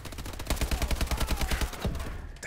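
Rapid automatic gunfire from Call of Duty Advanced Warfare, a steady burst of about fifteen evenly spaced shots over two seconds, loud and close, ending abruptly with no talking.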